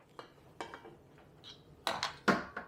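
A spoon clinks and taps sharply against glass at irregular intervals while additives are stirred into a carboy of homemade piña colada wine. The sounds are close, with short pauses of quiet between them.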